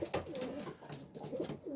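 Soft, low cooing from homing pigeons close by, several throaty calls overlapping in a gentle rolling rhythm.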